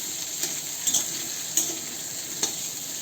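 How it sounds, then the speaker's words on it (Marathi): Chopped okra sautéed in a pan over a medium gas flame, giving a steady frying sizzle with sharp scrapes of stirring at irregular intervals, close and moderately loud, with no voices. "छान परतून घ्यायची भेंडी."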